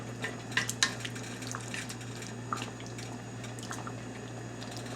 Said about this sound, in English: As you can see, it's bubbling right now.